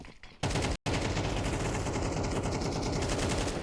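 Dense, continuous automatic gunfire fills a Counter-Strike match as a player sprays through smoke, loud and sustained apart from one brief cut early on.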